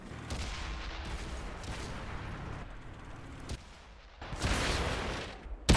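Video game turrets mounted on a building fire in heavy bursts, booming reports and rattling gunfire with short pauses between volleys and a loud blast near the end.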